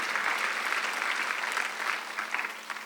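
A congregation at a Sunday worship service in church applauds steadily for a few seconds, a dense, even patter of many hands heard at moderate distance and fairly soft.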